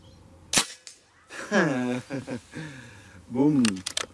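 Reximex Zone 5.5 PCP air rifle fires a single sharp, loud shot at a 75-metre spinning target, followed by someone speaking and a few faint clicks.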